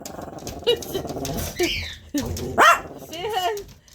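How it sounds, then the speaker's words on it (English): A dog tries to bark while holding a cookie in its mouth, giving several muffled, choked barks and yips at close range, with a person talking between them. "He's trying to bark with a cookie in her mouth."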